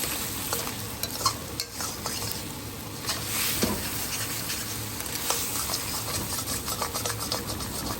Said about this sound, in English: we are cooking on a high flame, so we should continuously stir it